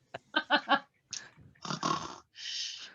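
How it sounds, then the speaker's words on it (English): A person snoring during a tabletop roleplaying game session: several short snorting, rasping breaths in quick succession, then longer wheezy exhales, close and fairly loud, with no talk over them. "You're just snoring."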